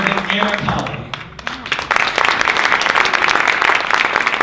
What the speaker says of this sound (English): Please join me again in applauding our new state finalists